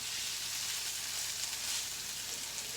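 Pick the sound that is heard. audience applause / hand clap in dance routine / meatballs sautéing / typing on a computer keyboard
meatballs sautéing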